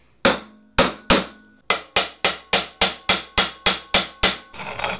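A hammer strikes a granite rock frying pan about a dozen times. Three slower blows come first, then a quick, regular run of loud, sharp metallic hits with ringing decays, followed by a scraping clatter at the end.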